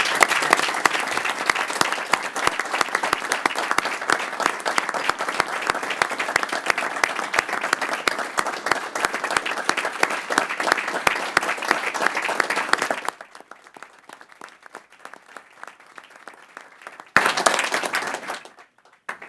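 Sustained applause from attendees at a board meeting, many hands clapping loudly for about thirteen seconds, then dropping to quiet room sound before a brief second burst of clapping near the end.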